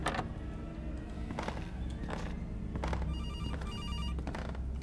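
A telephone rings in the animatronics horror video game Case: Animatronics, a fan-made pizzeria horror game, with a warbling electronic ring that bursts out midway amid thuds and dull game sounds.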